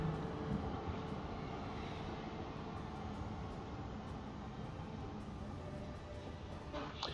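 A loud passing tram makes a continuous broad rumble that stays steady throughout, fading slightly toward the end, with no talk over it.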